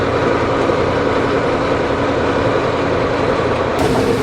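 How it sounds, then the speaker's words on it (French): Ural 4320 6x6 Russian expedition truck using its exhaust brake on a country road: a loud, steady heavy-engine rumble and exhaust roar held for about four seconds, close up, with no talk. "Le frein à l'échappement fonctionne beaucoup mieux que sur le mien"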